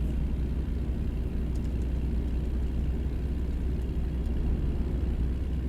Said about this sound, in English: this is a loud truck